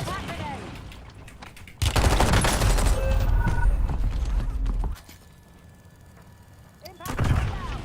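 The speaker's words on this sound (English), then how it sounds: "Sending impact grenade" A loud, sustained blast and rumble from an impact grenade in Warzone, bursting in abruptly and rolling on for about three seconds before dropping away, with another sharp burst near the end amid game sounds.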